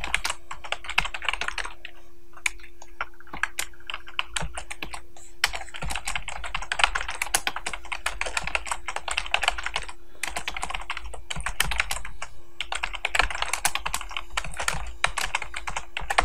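Rapid clicking of keys on a computer keyboard, typing in bursts with brief pauses, close and crisp over a faint steady hum.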